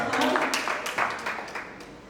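Audience applause at a Hindi poetry recital (kavi sammelan), a short burst of steady clapping that fades slightly over about two seconds.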